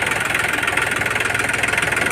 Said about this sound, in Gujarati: જે ટાઈપ ટ્રેક્ટર હાલતું હોય ને એ તો ટ્રેક્ટર હાલતું હોય એને ખબર